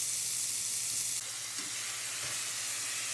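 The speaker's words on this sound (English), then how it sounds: "into a searing hot cast iron, we are going to cook for a few minutes on each side until we get a char" Honey garlic steak bites sear in a searing hot cast iron skillet, giving a steady, close sizzle of frying meat with a faint background hum and small stirring clicks, and no talking.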